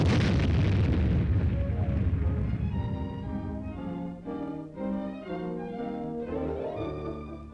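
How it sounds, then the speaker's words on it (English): A simulated atomic weapon explosion during the Sagebrush joint Army and Air Force military maneuver: a loud, deep boom and rumble at the start that fades while steady tonal music continues over it. "Simulated atomic weapons are a major feature of the maneuver."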